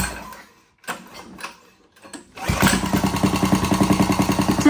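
A Coleman KT196 go kart engine is pull-started with a couple of rasping cord pulls, then catches and settles into a loud, steady, rhythmic putter close by.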